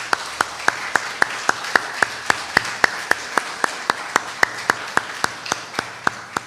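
Members of a church congregation clap in a steady, even rhythm, about three sharp claps per second, sustained for several seconds at moderate distance with no voices over it.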